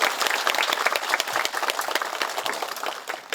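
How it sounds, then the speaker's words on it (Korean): Warm applause from an audience welcoming the Gyeongsangbuk-do governor at a formal agreement ceremony, loud and continuous throughout with a thick, even texture. "큰 박수로 맞아주십시오."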